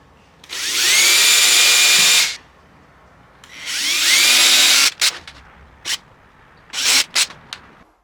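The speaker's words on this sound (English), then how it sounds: "drill a little hole in each of these little marks that I've created" A power drill whirs in two long loud bursts, then several short quick pulses as it bores small holes into a wooden board, close up and alone.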